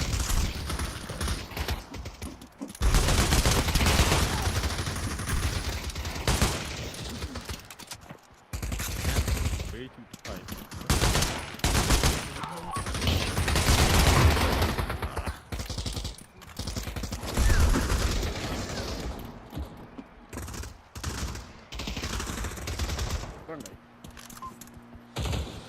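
AK rifle fire in the VR shooter Pavlov, several loud bursts and rapid volleys of shots separated by short gaps and clicks, with someone talking intermittently between the firing.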